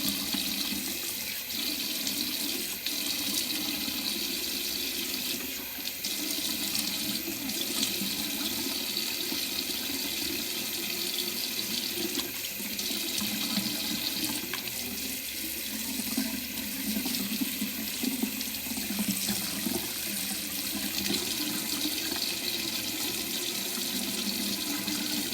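Tap water runs steadily into a sink while a face is rinsed, a soft continuous splashing stream with small changes as the hands move through it, alone with no speech.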